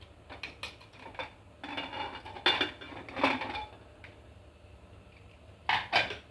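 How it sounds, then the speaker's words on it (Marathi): The metal lid of a cooled pressure cooker is handled and opened, giving several close metallic clanks and knocks separated by short quiet gaps. "आपलं कुकर थंड झालं आहे आता आपण त्याचं झाकण करायचं"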